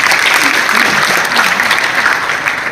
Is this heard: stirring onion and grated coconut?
no